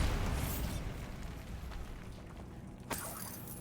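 A Bombarda blasting spell goes off in a Harry Potter video game, a rumbling burst up front that fades into a low tail, followed by a sharp crack near the end.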